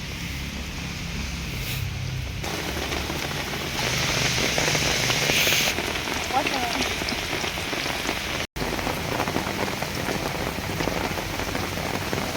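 Steady rain pours down outdoors in a Tamil street setting where hot bajji fritters are being cooked and eaten, a dense, continuous hiss of drops on surfaces with no talk.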